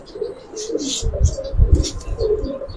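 A Giribaz pigeon coos close by in low, soft pulsing bursts, with faint chirps and background noise around it.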